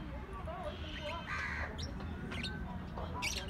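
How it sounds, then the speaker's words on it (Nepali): Birds calling outdoors, a few short squawking and cawing calls rising faintly over steady background noise and low rumble, with people talking nearby. "हेलो चराहरू कति राम्रो"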